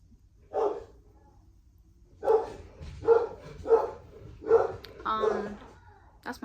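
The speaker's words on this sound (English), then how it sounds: "That's my mom's dog." A dog barks six times, close and fairly loud, in short bursts roughly half a second apart after a single opening bark, inside a quiet room.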